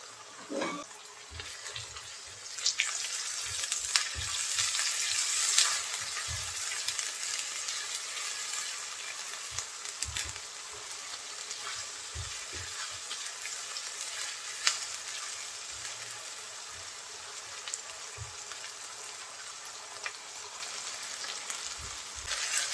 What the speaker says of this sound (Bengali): বাটা আদা রসুন দিয়ে আমি আরও কিছু সময় ভেজে নিয়েছি